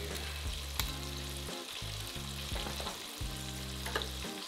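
Crappie fillets deep frying in a fryer basket give a loud, continuous bubbling sizzle close by, with occasional crackles and bursts of spattering oil.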